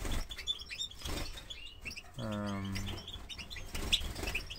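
A goldfinch with a broken wing, sitting on its perch, gives a short burst of bright chirps amid other faint twittering, close by, and a voice hesitates briefly.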